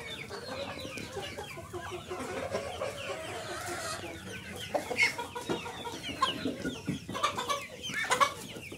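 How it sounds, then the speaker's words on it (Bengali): Tiger-breed roosters and hens mixed together on a poultry farm give off steady overlapping clucks and calls, with a few louder, sharper bird calls rising near the end. "এখানে মোরগটা কত বড়, টাইগার মোরগ, অনেক মোরগ, সবগুলো মিশাই আছে এই জায়গাতে।"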